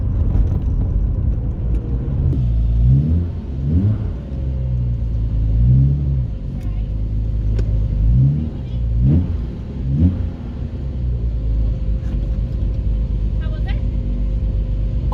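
A Jaguar E-Type Reborn, a restored 1960s sports car, revs while driving, its engine a steady close rumble that swells and falls in repeated surges under continuous talk in the cabin.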